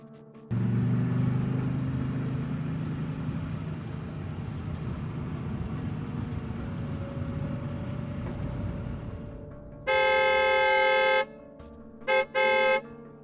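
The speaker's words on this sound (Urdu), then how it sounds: "عمران نے رفتار اور کم کر کے خام خواہ ہارن دینا شروع کر دیا" A car engine idles and rolls along at slow speed, then its horn blares in a long blast followed by two short toots, loud and close with no voices.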